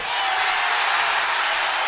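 Fans at a Utah State men's basketball game against Boise State make a steady, loud wash of cheering and crowd roar, with no breaks.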